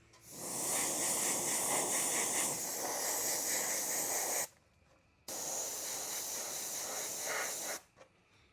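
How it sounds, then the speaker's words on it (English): Blue pinstripe paint sprays onto an ARRMA Mojave Grom RC car body in two long, loud aerosol bursts of steady close hissing, separated by a short pause and ending abruptly. "we're going to spray our blue pinstripe here"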